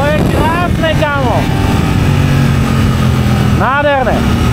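A Suzuki GSX-8R motorcycle with a small exhaust revs up several times, sharp rising and falling engine sweeps close by, with someone talking over the idle between blips.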